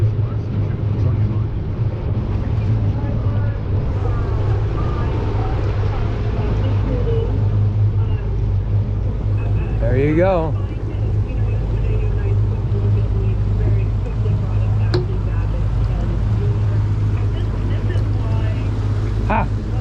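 Stabicraft 2350 boat with an F300 outboard running on the water, a steady close engine drone and hull rumble throughout, with a brief rising whine midway and someone speaking briefly over it.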